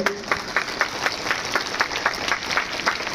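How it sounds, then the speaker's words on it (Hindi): An audience at a yoga event claps in steady rhythmic bursts, the beats even and sustained, filling a large space. "एक बार जोरदार तालियों से अभिनंदन करें हम सभी।"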